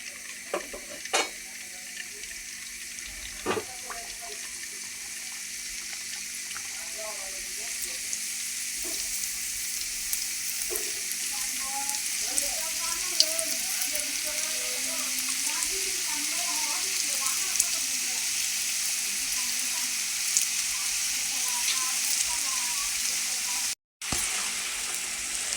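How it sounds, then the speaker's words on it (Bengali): Nimki dough frying in hot oil in a karai, a continuous close sizzle with small pops and crackles, steady throughout with one brief cut near the end. "এখন অল্প অল্প করে দিয়ে ভাইজা নিব।"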